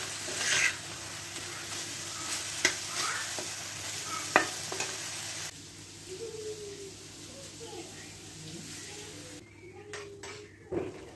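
Mushrooms with potatoes sizzle and fry in a pan while being stirred, with soft scraping and a few sharp clinks of utensil on pan, quiet and close. A voice speaks briefly in the background, and a bird calls faintly.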